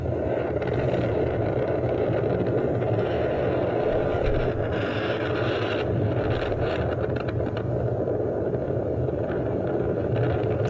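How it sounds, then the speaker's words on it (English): Vehicles driving across a lake give a steady broadband rumble of engine and road noise mixed with wind buffeting on the microphone, continuous and fairly even in level with no talking. "They're actually driving on the lake."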